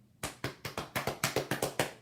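About nine quick, hollow hand thumps on a djembe drum in a steady rhythm, slapped close by, imitating a gorilla beating its chest.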